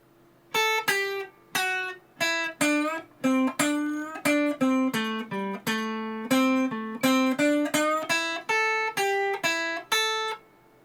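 A clean electric guitar plays a quick melodic lick from a solo in A, notes plucked in a steady flowing run with some pitch bends, ringing on its own.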